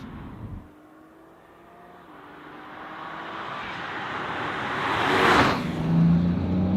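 A 2022 BMW X4M Competition engine builds from a low hum into a rising, strengthening roar as the car accelerates, peaking loudly near the end with a sharp surge.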